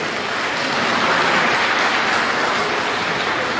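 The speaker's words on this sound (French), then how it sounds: "On applaudit frère Maurice Sanchez" A congregation applauds during a worship service in a Haitian Church of God, dense steady clapping filling the room evenly from start to finish with no voices standing out.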